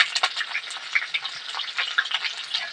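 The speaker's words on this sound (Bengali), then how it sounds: "তেলের মধ্যে আমি আলুগুলো ছেড়ে দেবো এক চামচ নুন দিয়ে দেবো হলুদ গুঁড়ো দিয়ে দেবো" Potatoes dropped into hot oil with salt and turmeric give off a dense, steady sizzle and crackle, close and fairly loud. The sizzle runs continuously with small pops throughout, and no voices are heard.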